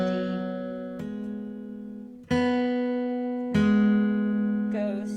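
Acoustic guitar plays a six-minor measure with a hammer-on and ghost notes: three clear strummed chords ringing out about a second apart, with a softer scratchy touch at the end.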